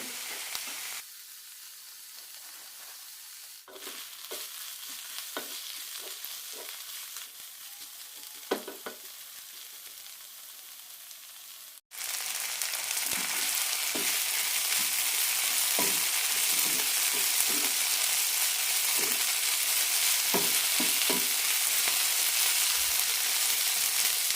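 Potato and fenugreek leaves stir-frying in a pan, a steady sizzle that jumps louder midway and continues with occasional scraping stir strokes throughout.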